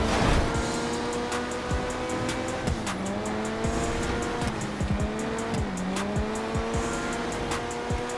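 Cars street race in GTA Online, engines revving loudly with rising and falling pitch as gears shift, tires squealing and skidding through corners in an unbroken, close-up roar.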